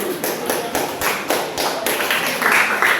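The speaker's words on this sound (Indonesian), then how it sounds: "Mari kita tepuk tangan." A group clapping hands together in steady unison during a classroom lesson, each sharp clap landing at an even, brisk rhythm, loud and close.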